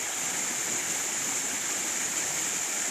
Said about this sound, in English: As you can see, the water runs here.